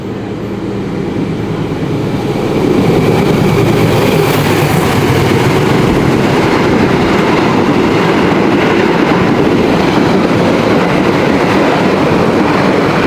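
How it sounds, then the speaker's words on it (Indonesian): An Argo Merbabu express train passes straight through an Indonesian station without stopping, a loud, steady rushing roar with rhythmic rail clatter that builds in the first seconds and holds close and powerful throughout. "Jalan 3 dari arah timur akan segera melintas kereta api langsung."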